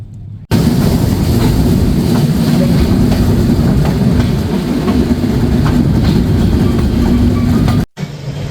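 Silk City Express passenger train in motion, heard from on board as a steady loud rumble with wheel clatter throughout, cutting briefly near the end.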